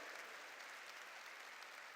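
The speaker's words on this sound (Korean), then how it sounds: "깨달은 사람만 박수 치라요" Church congregation clapping steadily during a Korean sermon, a dense, even wash of many hands that is moderately distant and fairly faint, with no talk over it.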